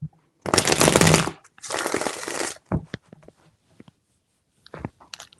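Tarot cards are shuffled in two loud, dense bursts of riffling, followed by scattered soft taps and card handling, close to the microphone.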